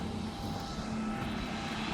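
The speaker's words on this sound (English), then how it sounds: "I was distracted by the sound of that boat." A boat's steady, low engine drone hums throughout, even and unbroken, passing at a distance off the Algarve coast.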